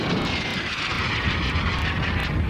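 A radio-controlled model jet flies at speed, giving a loud continuous whooshing roar that holds steady throughout, with no voices.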